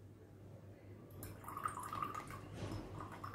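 Water from two tablespoons of overnight-soaked fenugreek seeds is strained, making a faint, close trickle and drip that starts partway through and continues quietly.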